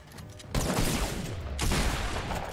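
Shotgun fire in Fortnite: Battle Royale, two loud, sharp blasts about a second apart, each followed by a sustained noisy rumble, close and dominant with no talking.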